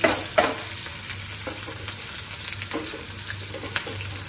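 Chopped onions fry in a pan on a home stove, a soft continuous sizzle broken by a few sharp clinks and scrapes of a stirring utensil against the pan.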